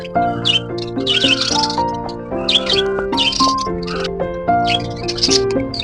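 Small birds in an aviary-style bird house chirp and trill loudly in overlapping bursts of high whistled notes, close and busy, with no voices.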